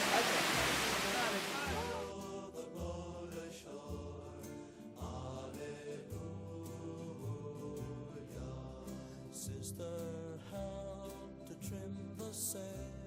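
Waterfalls seen on a 30-day South America cruise give a loud, steady rushing roar for about two seconds before music takes over and continues to the end.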